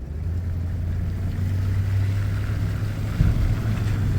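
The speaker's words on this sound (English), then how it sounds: "It's pretty rough crossing the gravel road with an airboat." An airboat crossing a gravel road, heard as a loud, steady, low engine and propeller drone with a rough rumble and a brief jolt near the end. Wind noise runs underneath and no one speaks.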